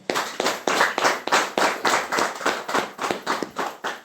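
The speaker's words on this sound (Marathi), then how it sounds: "त्यासाठी आपण परमेश्वराला टाळ्या वाजवून धन्यवाद देऊया." A congregation at a worship gathering claps hands together in a steady, rhythmic beat, about three claps per second, loud and close, with no talking.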